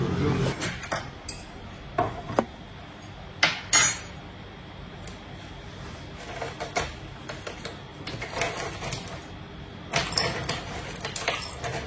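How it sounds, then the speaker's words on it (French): Dishes and cutlery being loaded into a dishwasher at home, a series of scattered clinks, clatters and rack scrapes in irregular bursts, close by and without talking. "Donc là je vais tout passer au lave-vaisselle."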